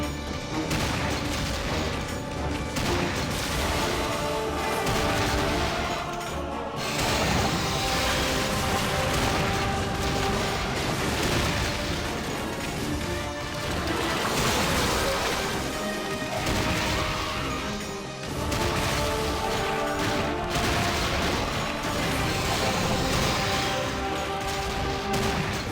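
Gunfire from the action game The 3rd Birthday pounds continuously over half a minute, heavy shots, crashes and booms overlapping with a dense layer of game music and effects, loud and busy with brief lulls.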